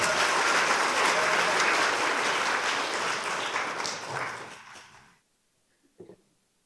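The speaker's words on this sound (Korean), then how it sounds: "박수로 환영하겠습니다" A church congregation claps to welcome a speaker to the front, sustained applause that gradually thins and dies out, followed by near silence and a brief faint knock.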